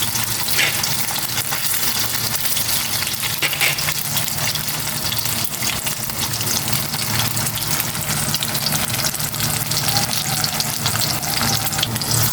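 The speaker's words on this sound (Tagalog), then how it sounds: "Prito ko na itong imbutido." Steady, dense sizzling of embutido frying in a pan, continuous and close, with faint clinks and no voices.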